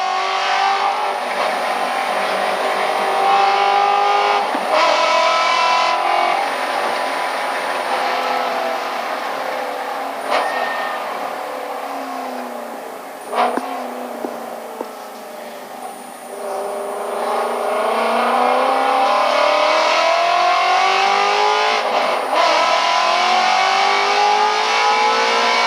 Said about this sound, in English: Full throttle through here when traction and traffic allows